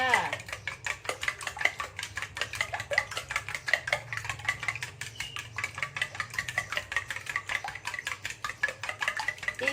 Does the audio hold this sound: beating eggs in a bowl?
yes